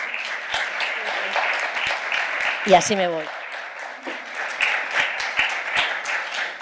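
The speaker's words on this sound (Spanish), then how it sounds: "empezamos con un aplauso para que entre en calor" Audience applause at a talk on educating families in the 21st century, steady dense clapping throughout, with someone speaking briefly over it partway through.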